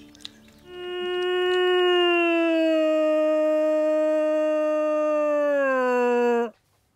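A single long wolf howl answers, rising in and then holding a steady, clear pitch for about six seconds before sliding down and stopping, loud against quiet surroundings.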